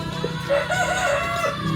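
A young rooster, a Wyandotte crossed with a mixed-breed hen, crows in a coop, one drawn-out, strained cock-a-doodle-doo that rises and wavers, loud and close against a steady background hum, with no voices.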